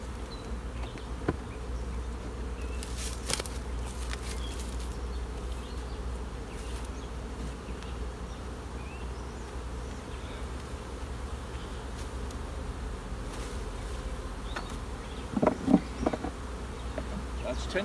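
Honey bees buzz steadily around an opened beehive during a move from double to single brood chambers, a dense continuous hum with a few brief nearer passes and clicks, no talking.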